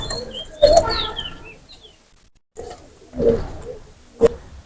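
Teddy pigeons of a high-flying Sakhi bloodline make intermittent soft coos and short chirps in a few separate bursts, with a brief silent pause in between, close and moderately loud.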